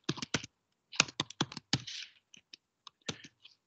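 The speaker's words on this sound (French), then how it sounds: "Je le tape de sorte que vous le voyez." Fingers type on a computer keyboard in short bursts of quiet, close key clicks separated by brief pauses.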